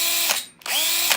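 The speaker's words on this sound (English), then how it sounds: "This is a cordless drill, so obviously we can just fit it in there and tighten it up." A cordless drill whirs loudly at close range, used to drive a hand-mixer attachment for mixing. It runs steadily, briefly winds down to near silence, then spins back up to full speed.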